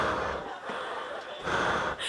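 A voice imitates echoing breathing inside a steel jousting helmet, heavy hollow inhales and exhales close to the mic, two long breath cycles with a rasp at the end.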